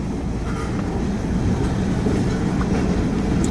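A freight train rolls steadily past close by, its dense rumble and wheel clatter holding at an even loudness throughout.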